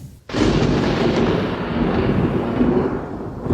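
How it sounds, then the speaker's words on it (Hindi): A deep, rolling rumble of thunder swells in suddenly and keeps booming steadily, loud and close, with no voices. "बादल गरजना।"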